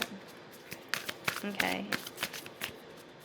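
Tarot cards being shuffled by hand, a papery riffle of quick, uneven flicks heard close up, with a brief spoken word partway through.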